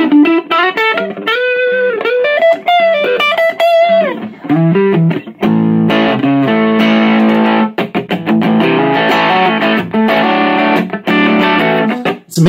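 An electric guitar plays through a small Yamaha THR5 modelling amp on its lead setting. A distorted single-note melody gives way to loud, sustained chords.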